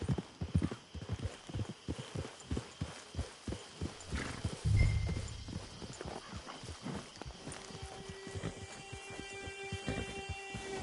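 Horse hooves clip-clopping in Red Dead Redemption 2 at a camp, a regular walking gait of distinct close hoof strikes, briefly broken by a louder thud and a short whinny-like sound, then softer steps under a faint tonal background.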